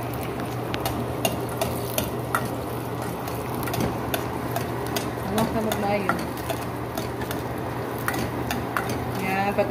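Bagoong frying in oil in a pan, a steady soft sizzle with occasional stirring scrapes and clinks of a utensil against the pan, close and continuous, with faint voices in the background.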